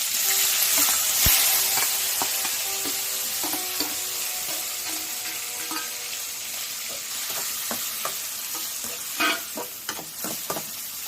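Onions and tomatoes fry in a pan with a steady, close sizzle that runs throughout, broken by occasional sharper crackles and spatters. No one speaks over it.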